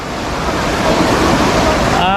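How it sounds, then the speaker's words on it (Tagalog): River water rushes loudly and continuously at Wawa Dam in Montalban, Rizal, a close, roaring torrent with a wind-buffeted edge. "Ganda ng agos ng tubig"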